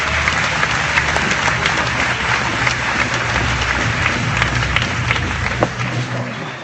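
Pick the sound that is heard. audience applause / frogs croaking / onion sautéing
audience applause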